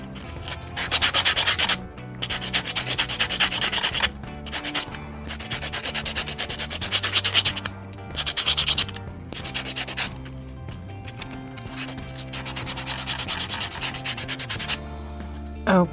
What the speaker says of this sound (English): once you are done buffing your nails